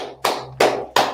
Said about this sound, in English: All right, clap it